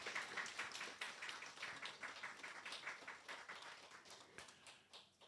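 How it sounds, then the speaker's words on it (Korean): Audience applause at a religious blessing and marriage ceremony, steady dense clapping from a crowd that holds for several seconds and gradually thins toward the end, with no talk over it. "Round of applause, please."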